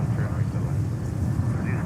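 Emirates airliner in special livery departing JFK airport in New York, heard as a steady, loud jet engine roar from start to finish, with no obvious breaks.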